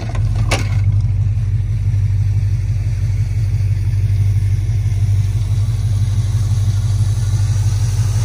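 A 1967 Dodge Coronet 440 R/T clone's 440 big block V8 with headers idles, a loud steady low rumble throughout, with a brief sharp click near the start.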